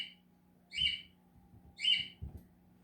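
Two short, bright chirps from a pet cockatiel, close and distinct, separated by a pause of about a second, over a quiet room hum with faint low thumps of handling.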